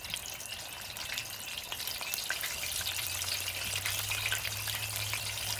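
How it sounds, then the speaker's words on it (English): Catfish pieces fry in hot oil with a steady, broad sizzle and scattered pops of spattering oil. A low hum joins partway through, and nobody speaks. "You want to see that thing fry immediately. You want to see that oil popping and jumping."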